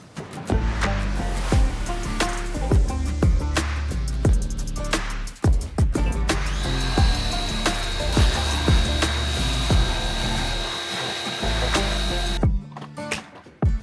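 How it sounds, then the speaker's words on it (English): A pressure washer sprays down a grimy Honda CR250R dirt bike outdoors, a loud, dense broadband hiss and spatter with a steady pump whine, close by and continuous apart from brief pauses. "We'll pressure wash the bike and"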